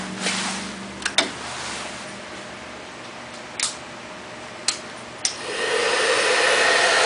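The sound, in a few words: hair dryer running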